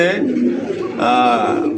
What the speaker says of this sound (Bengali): এখানে রয়েছে মন মাতানো আকর্ষণীয় চোখ ধাঁধানো একজোড়া ট্যাগারওয়ালা কবুতর